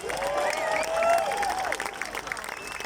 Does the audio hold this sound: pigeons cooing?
no